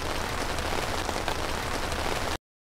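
Steady rain pours down at an outdoor 5K color run, a dense, even hiss of drops hitting the ground with no voices, running unbroken before cutting off abruptly near the end.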